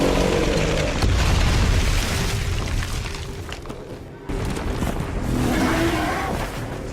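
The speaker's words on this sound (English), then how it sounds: "A few gunshots should get him dazed." Heavy booming gunfire and impacts in the video game Darksiders 2 during a horseback fight, loud dense blasts over a rumbling action soundtrack with a brief dip midway.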